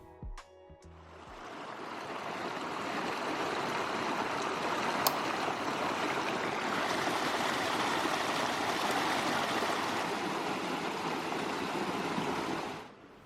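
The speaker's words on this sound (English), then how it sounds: "there's water just flowing along canals" Water rushes steadily along a town canal in Spain, a dense, even broadband flow that swells in after a few brief clicks and holds unchanged for over ten seconds before cutting off, with no voices.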